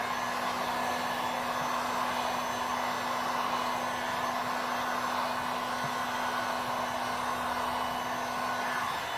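Heat gun blowing on window tint film to shrink it against the rear glass of a 2017 Ford Mustang, a steady airy whir with a constant hum, close and unbroken throughout, no talking.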